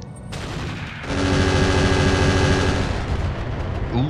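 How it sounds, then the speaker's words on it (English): Heavy mech weapons fire in the Battletech Roguetech video game, a dense, loud volley of rapid shots and blasts that swells after a second and rumbles on, close and continuous. "shooting at the Waneta"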